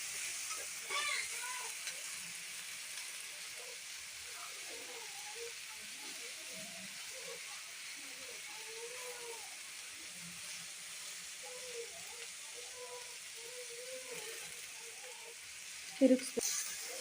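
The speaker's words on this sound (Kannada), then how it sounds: "ಆ ನುಗ್ಗೆ ಸೊಪ್ಪನ್ನ ಹಾಕಬೇಕು." Drumstick leaves fry in a pan with onions for a palya, a steady low sizzle running throughout with soft scraping stirs, quiet and close, ending in a sharper clatter.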